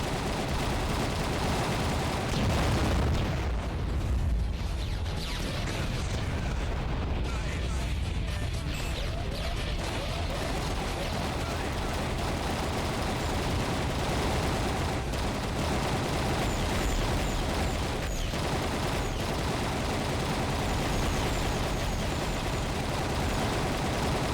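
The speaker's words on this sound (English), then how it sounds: "Caught some torpedoes." Torpedo explosions in the underwater combat game AquaNox come as a constant dense barrage of heavy blasts and crashing impacts, loud and close with no pause, with a voice faintly underneath.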